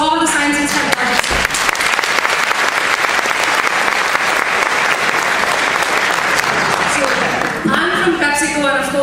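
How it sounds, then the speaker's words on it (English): A crowd at a science and technology fair opening ceremony claps loudly and continuously for STEM graduates, with a speaker's voice briefly audible at the start and the end. "Let's give a big applause to all the science and STEM graduates"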